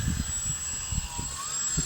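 High, steady whine of a small model aerobatic airplane engine held at constant pitch, moderately loud and continuous, with soft low thumps of wind or handling underneath.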